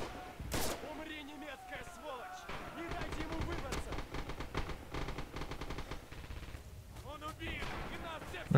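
Gunfire in the video game Rising Storm: rapid machine-gun bursts and scattered shots crackle in a busy battle, a loud shot near the start, while people talk over the fighting.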